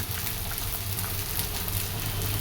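Fish and prawns fry in a pan in a home kitchen, giving a steady, dense crackling sizzle that holds evenly throughout with no talk over it.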